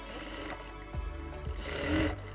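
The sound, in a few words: overlock sewing machine stitching a pocket hem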